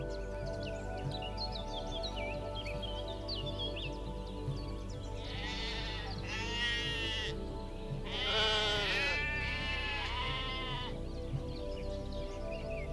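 Bighorn sheep bleat outdoors in the wild. Two or three wavering bleats come mid-stretch over an open-air background with faint birdsong chirping.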